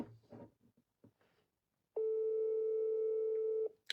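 An outgoing phone call to Cameroon produces a single long, steady ringback tone lasting nearly two seconds, clear and close, after a few brief soft noises of handling.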